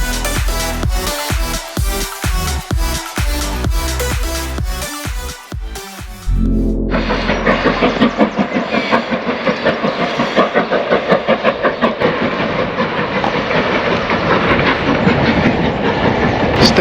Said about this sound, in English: Stunning to see the steam train going through the English countryside.